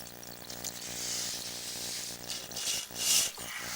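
Water running through a vertical section of drain pipe, a continuous hollow rushing and gurgling that swells a few times, heard close inside the pipe with a low mechanical hum beneath.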